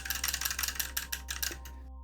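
Rapid plastic clicking from a tablet trigger grip, a quick series of about a dozen crisp taps close up, then silence.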